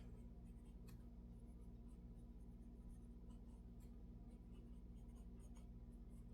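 A mechanical pencil draws on paper in a soft, continuous scratching, with brief strokes and pauses over a low steady hum. The sound is faint and close, with no talking.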